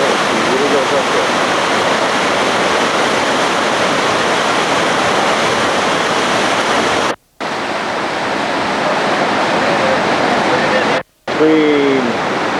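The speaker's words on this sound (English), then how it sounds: "Waterfall on the side of the hill." Christina Falls, a waterfall pouring down sheer rock on an Australian hillside, roars loud and constant as a dense rushing hiss, broken by two brief dropouts, with faint voices at moments.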